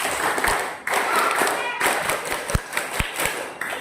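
Primary school pupils at a school orientation performing the rhythmic scout clap together, bursts of group clapping with sharp accented claps in a set pattern, close and lively with some voices mixed in.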